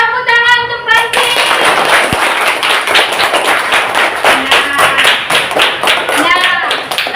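Children in a classroom clapping in a loud, brisk burst of close hand claps, with voices talking at the start and end.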